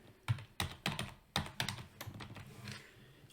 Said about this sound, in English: So this time, I'm going to just type it in again.